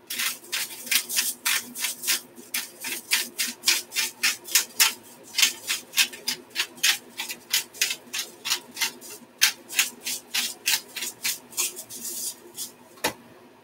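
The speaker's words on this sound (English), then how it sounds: "I'm going to add some no salt herb seasoning grinder" A herb seasoning grinder turned over a pot gives a rapid series of rasping, ratcheting grinds in a steady rhythm, loud and close, with no talk.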